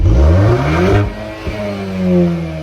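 A 2022 VW Golf R Mk8 accelerates hard with its exhaust opened up, the engine note loud and close, climbing steadily through the revs with a brief dip as it shifts gear before pulling on.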